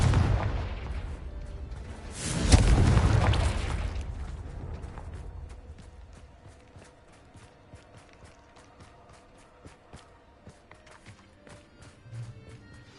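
A Confringo fire spell goes off in Hogwarts Legacy with a single heavy booming blast that swells and then decays, followed by a quick run of light, rhythmic footsteps.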